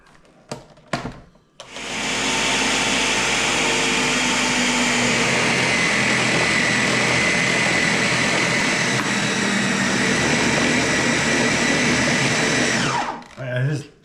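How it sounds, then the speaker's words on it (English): A Ninja blender whirs loudly and steadily for about eleven seconds while mixing pizza dough with yeast poured in, starting after a few clicks and winding down at the end. "Now we're going to slowly pour it into the Ninja while it's on."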